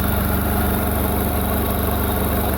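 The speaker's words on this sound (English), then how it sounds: "Cracking bit of engine these are. Good old multi-point injectors." Old van engine with multi-point injectors, running on a diesel and waste engine oil mix, idling steadily and close by with a constant low rumble and no talk.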